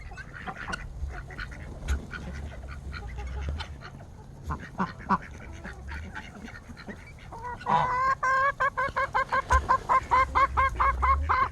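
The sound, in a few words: chickens clucking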